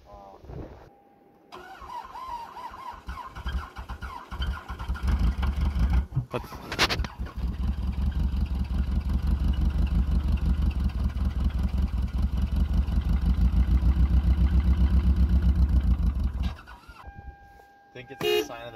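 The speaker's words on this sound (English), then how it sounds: "Alright, we're getting this car one more chance to start up." A 1999 Toyota Camry LE cranks and tries to start, with a brief burst and then a long, loud, rhythmic cranking and engine chug up close, which stops abruptly near the end.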